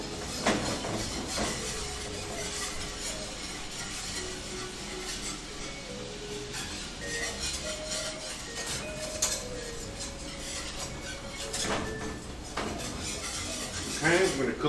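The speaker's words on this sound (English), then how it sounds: "Let's switch over to a whisk." Metal whisk rattling and clinking steadily against the inside of a cooking pot while making New Orleans-style barbecue shrimp or Louisiana pralines, with continuous scraping and clatter and a voice speaking intermittently over it.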